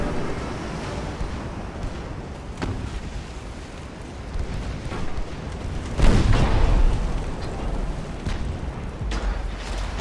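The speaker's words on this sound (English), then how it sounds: "Oh, we got a torpedo off though." Ultimate Admiral Dreadnoughts naval battle audio as a torpedo is launched: a rumbling wash of sea and distant gunfire booms, with a heavier thump and surge midway and further muffled blasts after it, no voices heard.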